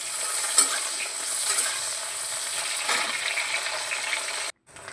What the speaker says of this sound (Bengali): বেগুনটা ভেজে নিই।